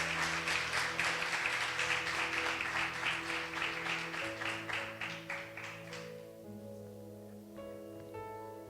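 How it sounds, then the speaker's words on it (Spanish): A church congregation applauds loudly and steadily over sustained music for about six seconds, then the clapping fades away, leaving the music playing on alone. "Dan un fuerte aplauso, Señor."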